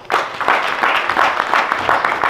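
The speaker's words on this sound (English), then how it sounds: "A warm applause." Warm applause from an audience at a Year of Return event in Amsterdam, brisk overlapping claps over about two seconds, fairly close and steady, with no voices on top.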